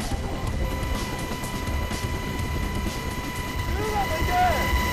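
Rotor and engine roar of a military helicopter in flight during a marine high-altitude infiltration training exercise, a steady loud drone filling the cabin with some wind noise throughout.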